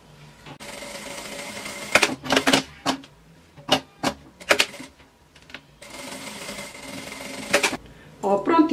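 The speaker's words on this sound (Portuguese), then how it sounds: "vou passar uma costura aqui em toda a volta" A domestic sewing machine stitches around the edge of a fabric piece in short bursts of rapid mechanical whirring and clatter, separated by pauses, with someone speaking Portuguese between runs.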